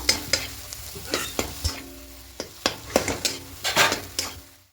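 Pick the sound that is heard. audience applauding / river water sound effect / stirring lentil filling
stirring lentil filling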